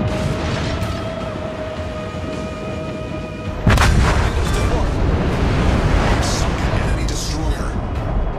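In a naval warfare video game, the cruiser St. Louis fires its guns. A sudden heavy boom breaks through a steady engine-and-sea drone partway in and is followed by a dense, loud rumbling roar.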